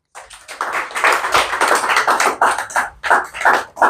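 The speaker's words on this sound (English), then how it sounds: "Uwem Akpan, a round of applause, please" Audience at an Ibadan book reading applauds author Uwem Akpan, a close, lively round of hand clapping with uneven bursts that swells and dips over a few seconds.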